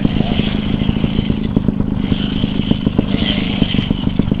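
A motorcycle engine thrums close by with a rapid, pulsing rhythm, steady and loud, with occasional rattling clatter as it rides along a mountain road.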